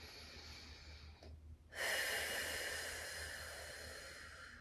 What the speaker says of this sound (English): One more deep breath.